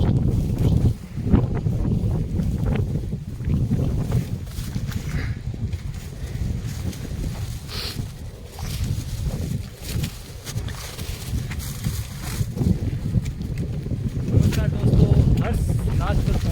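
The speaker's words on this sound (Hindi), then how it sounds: "हर्षनाथ के ऊपर बहुत तेज हवा चल रही है और कितनी तेज हवा चल रही है।" Strong wind blowing hard across the top of Harsh hill (Harshnath) near Sikar, roaring steadily and loud near the microphone for the whole stretch, with gusts rising toward the end.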